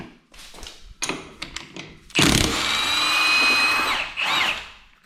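Milwaukee M18 Fuel 1/2-inch high-torque impact wrench with friction ring, running on a 1.5 Ah battery, removing lug nuts: a few short clicks and taps, then a loud sustained two-second hammering burst and a brief final burst.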